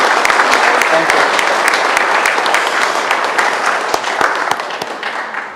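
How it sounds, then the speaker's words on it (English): Loud, sustained applause from a meeting audience congratulating environmental hero award winners at a city commission session, dense steady clapping that fills the room and fades slightly toward the end, with no voices over it. "Let's give a big round of applause one more time as we congratulate the awardees"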